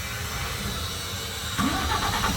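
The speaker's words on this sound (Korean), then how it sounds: "시동을 한번 켜볼까요?" The engine of a 5-ton cargo crane truck starts up, a low rumbling idle first, then the diesel catching and running louder partway through, heard close by with no speech.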